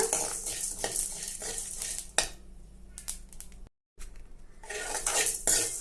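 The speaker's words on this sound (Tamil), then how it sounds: "ஸ்டவ் வந்துட்டு லோ ஃப்ளேமில் வச்சு நம்ம இதை வறுத்துக்கலாங்க." Lentils and coriander seeds dry roasting in a pan on low flame are stirred with a spoon, producing dry rattling scrapes and clinks in bursts, with a short silent gap midway.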